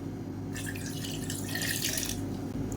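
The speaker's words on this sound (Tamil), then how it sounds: "இந்த தண்ணியை வந்து வேஸ்ட் பண்ண வேணாம் இந்த தண்ணியை ஊற்றிக்கலாம்" Water pours steadily into a mixer jar in a kitchen while tomato gosthu is being prepared, a close running splash lasting about two seconds over a low steady hum, with no talking.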